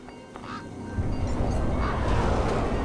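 Birds honking like geese in the video game Beyond A Steel Sky, gathered near the back of a truck; a few nasal honks ring out over a steady, rumbling ambient bed that thickens after the first second, with no one talking.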